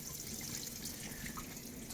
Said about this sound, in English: if I turn on the Coolant button, I get both external and internal water feed